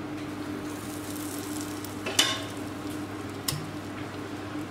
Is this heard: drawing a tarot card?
no